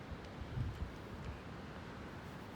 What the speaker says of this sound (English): It sounds really windy.